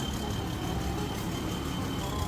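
Steady, unchanging engine drone of a Tanaka S7000 rice harvester in Farming Simulator 19, a continuous loud hum with no gaps or revving.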